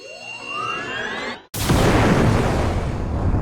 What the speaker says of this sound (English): So here's explosion. X ability.